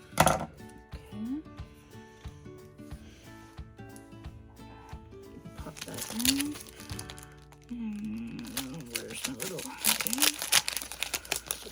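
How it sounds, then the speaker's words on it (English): Paper is snipped and handled while making a Valentine's flip card banner, with crinkling, rustling and sharp cutting sounds that grow busier toward the end, under intermittent talk. "So first of all, let's cut our little banner."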